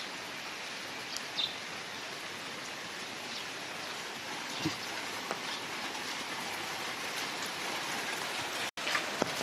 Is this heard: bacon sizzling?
no